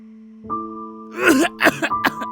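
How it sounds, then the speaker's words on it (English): In the horror novel game It Paints Me, a sustained tone gives way to a harsh, phlegmy cough in several wet bursts, close and loud. "I cough again, another long, wet trail dripping from my lips."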